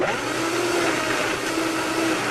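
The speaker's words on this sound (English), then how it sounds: "Let's get that into a blender." A blender runs steadily and loudly throughout, whirring as it purees a pasta alla Norma sauce base thinned with a third of a cup of pasta cooking water, with no talk over it.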